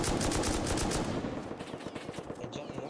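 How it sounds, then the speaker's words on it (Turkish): M2 machine gun in the Rust video game firing from a tower, rapid loud bursts of automatic fire at first, then quieter fast repeated shots continuing. "M2 yukarıdan kuleden sıkıyor."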